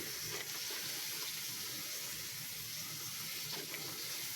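Water running steadily into a cooking pot for sambar, a continuous, even hiss and splash heard close up at low level with no voices.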